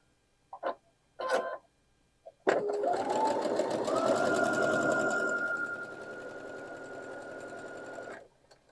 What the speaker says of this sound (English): I'm going to sew this down at a 1/4 inch seam.